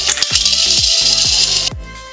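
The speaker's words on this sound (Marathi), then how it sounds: "मीडियम आचेवर भाजून घ्यायची, जेणेकरून सर्व शेंगदाणे भाजले जातात." Dry peanuts rattling and scraping in a pan over medium heat, with repeated stirring strokes pushing the nuts around and a steady hiss underneath, close and fairly loud, with no speech.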